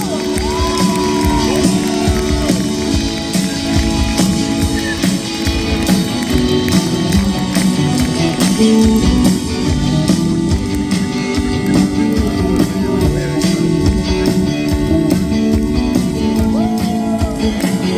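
Loud, continuous crowd noise from an audience at a live concert in A Coruña, with cheering, shouts and whoops over dense sustained applause and music for the whole stretch.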